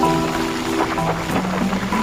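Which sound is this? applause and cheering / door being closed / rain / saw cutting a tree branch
rain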